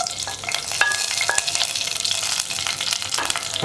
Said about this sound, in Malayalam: അപ്പോൾ നമ്മുടെ കടുക് പൊട്ടി കഴിഞ്ഞുകൊണ്ടിരിക്കുന്നുണ്ട്. നമുക്കിതിലേക്ക് വറ്റൽമുളക് ചേർക്കാം.